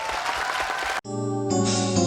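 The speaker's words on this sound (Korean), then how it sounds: "이분들에게 큰 박수를 한번 보내주십시오" Dense applause from a studio audience of army veterans and active-duty soldiers fills the first second, then cuts sharply into a sustained broadcast jingle tone.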